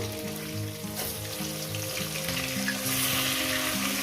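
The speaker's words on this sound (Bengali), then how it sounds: "এই মাছগুলো উল্টিয়ে দেবো" Fish pieces fry in a pan with a steady, dense close sizzle and crackle, some stirring or turning noise, alongside a faint tonal hum in the background.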